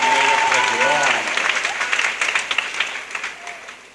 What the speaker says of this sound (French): Applaudissez pour les prêtres d'Abbeville